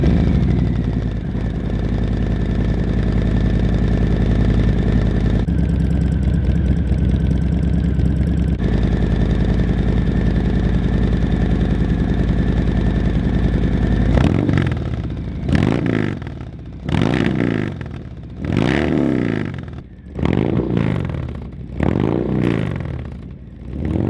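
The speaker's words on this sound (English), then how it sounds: "let's have a listen and hear what this beauty sounds like" A 2020 Harley-Davidson Low Rider S Softail with an S&S 2-into-1 exhaust and S&S air cleaner idles with a deep, loping rumble, then is blipped through a series of sharp, loud throttle revs close by.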